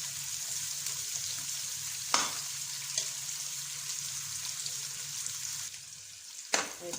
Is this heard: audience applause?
no